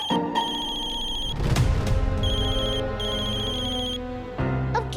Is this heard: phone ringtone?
yes